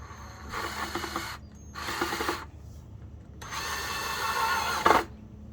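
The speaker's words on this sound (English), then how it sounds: "it's a little bit awkward trying to put these screws in here, but we're gonna get them in there" A power drill drives screws into wood for a homemade fishing line spooler, three close whirring bursts with short pauses between them, the last one ending in a sharp knock as a screw seats.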